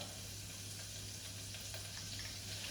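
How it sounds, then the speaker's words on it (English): Finely shredded garlic, about six cloves, sizzling in a saucepan, a soft steady crackling fry with a low hum beneath, quiet and unbroken. "So about 6 cloves of garlic that I've finely shredded goes right into my saucepan here."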